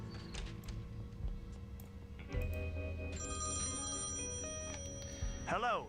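A telephone rings in the point-and-click adventure game Thimbleweed Park, a bright repeating electronic tone emerging midway over soft background game music.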